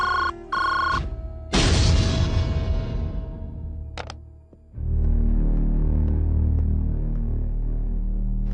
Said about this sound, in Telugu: పద్మ, ఫోన్ చేసావా?